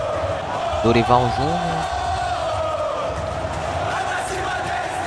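A stadium crowd of Atlético MG supporters in the FIFA 23 football game, a steady roar of voices with a loud swell of chanting near the start, while a commentator speaks over it.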